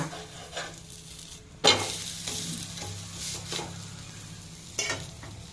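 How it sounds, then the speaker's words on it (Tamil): Ragi adai, a finger millet flatbread, sizzles on a pan over low heat, with a soft steady fry hiss and a few sharp scraping or turning clatters of a utensil, close and fairly quiet. "இந்த பக்கமும் நல்லா சூடு கம்மியாக வச்சு நல்லா வேக விடணும்"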